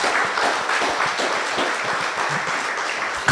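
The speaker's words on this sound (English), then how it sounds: "I think she deserves another round of applause" Steady, dense applause from an audience at a research launch event, a continuous wash of many clapping hands held at an even level from start to finish with no voices over it.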